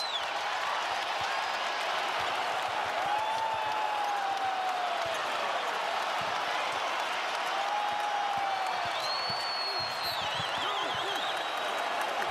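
College basketball arena crowd at BYU's home court during a game against Abilene Christian, buzzing after a big play: a loud, continuous roar with scattered whistles and cheers under the commentators' voices.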